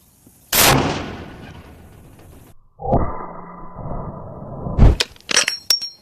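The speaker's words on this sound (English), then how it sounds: "This is a 50 cal against an Anvil." A .50 caliber rifle fired at an anvil outdoors: a sharp, loud shot with a long decaying echo, then a ringing metallic tone lasting about two seconds, followed by a few sharp cracks and clanks.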